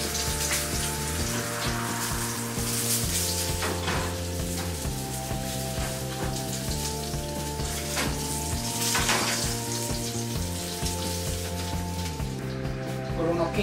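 A salmon fillet sears in a frying pan with a steady, close sizzle that runs throughout beneath stepped tonal background music.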